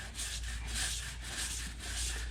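Steady brush scrubbing on the chain of a 2015 Honda CTX 700 motorcycle, a continuous close rubbing with gentle rhythmic pulses and a low hum underneath, no talking.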